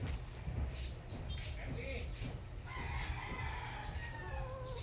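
Chickens cluck and a rooster crows nearby, mixed with low background rumble and a voice talking.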